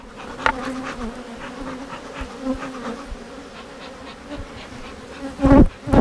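Honey bees buzzing steadily around a comb honey hive with a queen cage inside, a close, continuous drone with brief louder swells as individual bees pass near.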